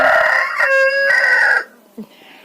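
A rooster crows once, close and loud, a drawn-out strained call, followed by a brief quiet cluck, in a village poultry yard in the evening.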